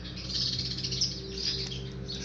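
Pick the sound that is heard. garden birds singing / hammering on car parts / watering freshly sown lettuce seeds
garden birds singing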